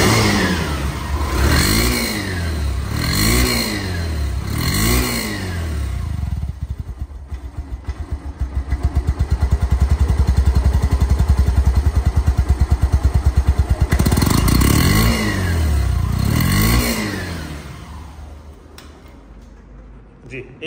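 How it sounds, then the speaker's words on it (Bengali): A Yamaha Saluto motorcycle engine runs nearby, revved in repeated rising and falling surges, then settling into a steady throbbing idle before more revs and a fade. Someone talks over parts of it. "এখন সাউন্ড কোয়ালিটি শুনলে আপনারা অবাক হয়ে যাবেন যে এত স্মুথ সাউন্ড এই বাইকটি"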